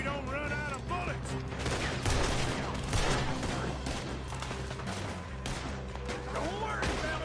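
Rapid gunfire fills a Red Dead Redemption 2 shootout, with dense overlapping shots and volleys continuing throughout under voices.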